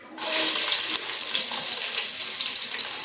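Chopped onions dropped into hot ghee for chicken biryani burst into a loud, steady sizzle that starts abruptly and then settles into a continuous bright hiss, close and alone.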